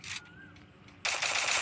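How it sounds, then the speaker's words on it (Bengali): Gunfire in the mobile game Free Fire: a short, sharp burst, a brief lull, then a louder sustained rapid burst of shots. "আমি কিন্তু একটাই শট দিয়েছি"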